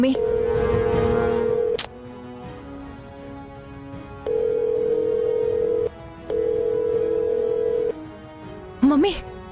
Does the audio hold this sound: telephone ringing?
yes